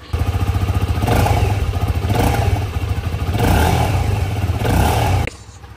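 A Modenas Z15GT supermoped engine revs up repeatedly in rising, clattery bursts, loud and close, before cutting back to idle.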